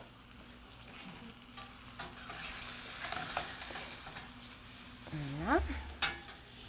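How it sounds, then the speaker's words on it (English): Floured sole fish sizzles gently in a pan, a soft, steady frying hiss with occasional stirring and utensil sounds, and a short spoken word near the end. "You need to take a time to have the fish cook a little bit."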